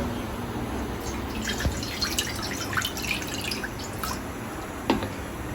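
Water is poured into a pot of banana flower to boil on a gas stove, a close, continuous watery splashing and trickle with scattered drips.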